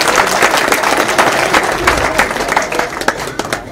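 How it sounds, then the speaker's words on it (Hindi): An audience at a Lal Bahadur Shastri Group of Institutions foundation day ceremony claps loudly to welcome a guest, close, dense applause with sharp individual claps standing out throughout. "जरा तालियां बजाकर उनका स्वागत करें।"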